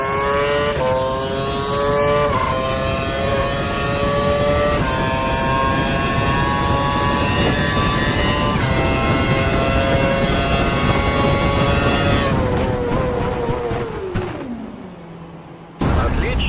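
Formula One race car in the F1 2012 video game accelerating hard toward a hairpin, a loud high-pitched engine whine climbing through gears with shifts, then dropping sharply as it brakes and slows into the corner before briefly picking up again.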